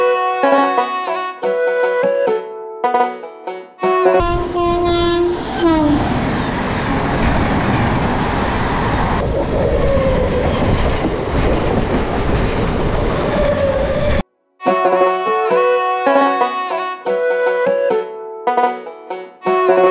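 A local train on the Sealdah to Rampurhat line runs loudly with a heavy rumbling roar and rattle for about ten seconds, with music playing before and after it.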